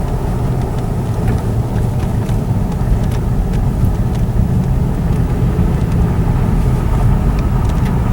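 A car drives along a very crooked mountain road, giving a steady, loud rumble of engine and tyre noise heard from inside, with faint clicks and rattles over it.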